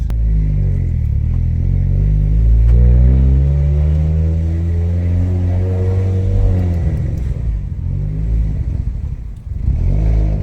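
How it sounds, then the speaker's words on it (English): An Audi A4 B7 with the 1.8T 20V engine drives around the block, its engine droning steadily with a smooth rise in pitch and a shift midway, loud and close from inside the car, with no talking. "we're just gonna drive around the block, just to get the temperatures and everything nicely warmed up"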